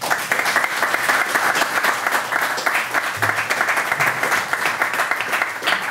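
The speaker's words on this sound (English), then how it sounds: "big round of applause for Jess." Steady, loud audience applause at a small startup pitch event, dense clapping from a nearby crowd sustained throughout without a break.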